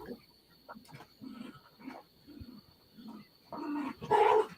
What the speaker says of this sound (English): Playing with a dog.